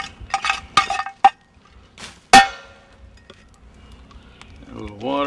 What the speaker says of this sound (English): throw in some coals, push them around a little bit